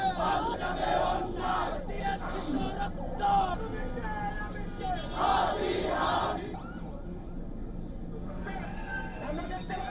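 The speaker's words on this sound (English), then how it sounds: "The house of India's deputy ambassador to Bangladesh was also surrounded by hundreds of people who were trying to demonstrate in a sit-in" Crowds of protesters at a demonstration in Bangladesh shout and yell, a dense roar of many voices that surges in waves and then thins out toward the end.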